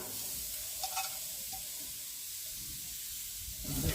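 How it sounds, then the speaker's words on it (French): Sliced courgettes sizzle on a barbecue grill with a soft, steady hiss. A few faint clicks and crackles come through near the start, and no one speaks. "Je dépose mes courgettes sur la grille de mon barbecue. Ça va griller tout seul"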